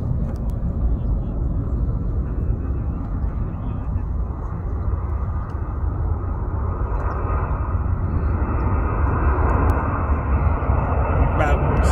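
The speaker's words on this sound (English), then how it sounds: "We've got a United 767-300 headed to Lima, Peru." A United Boeing 767-300 jet airliner, bound for Lima, Peru, rumbles steadily at an airport, a broad continuous roar heard from a distance, with a person talking over it.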